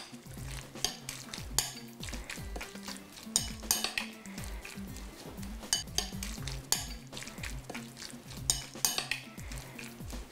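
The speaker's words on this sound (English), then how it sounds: "Give it a good mix." A spoon mixes kimchi salsa in a bowl, dressed with sesame oil and lime juice. The stirring is steady, close and repeated, with wet squelching and sharp clinks against the bowl, and no one talks over it.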